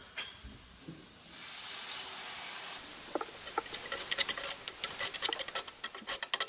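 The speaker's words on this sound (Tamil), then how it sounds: "லைட்டாக தண்ணி விட்டு வதக்கி விட்டுக்கலாம்" A soft hiss in a pan turns into crackling, popping sizzles as tomatoes sauté with a little water, growing denser and louder toward the end, with no voices.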